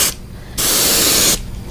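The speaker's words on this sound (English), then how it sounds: "we're just going to come up and spray at a 90 degree angle directly at the bait" An airbrush sprays opaque white paint straight onto a fishing lure in one steady hissing burst of under a second, close and loud, with quieter background noise on either side.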